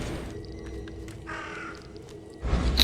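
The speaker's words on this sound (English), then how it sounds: "So there's a crow." A crow caws several times in the video game The Sinking City, fairly distinct against a quiet ambient background, followed by a louder burst of sound near the end.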